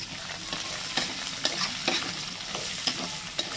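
Chopped garlic fries in a pan with a bright, constant sizzle, broken by regular soft scraping stirs and small pops, heard up close with no talking.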